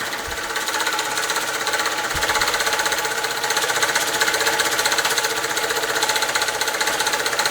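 A small British overtype model steam engine runs steadily close by, a fast rhythmic mechanical chugging and clatter that continues without pause.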